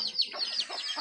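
Pet chickens, a mother hen with her chicks, being moved into their new coop in the countryside, giving soft, close clucks and high chirping calls in a quick, uneven series.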